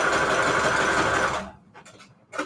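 A sewing machine stitches fabric scraps in a steady, fast, loud run for about a second and a half, then stops; a few faint clicks and handling sounds follow.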